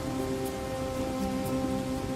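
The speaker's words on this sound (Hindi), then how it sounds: "बाहर अब भी मूसलाधार बारिश हो रही थी।" Heavy pouring rain falls steadily in a dense, continuous roar with no break, close and even throughout, with no voices.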